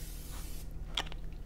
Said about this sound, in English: spray the pan, a little pan spray here